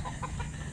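Chickens clucking at a chicken farm, a short burst of close, busy fowl calls over steady farmyard background noise.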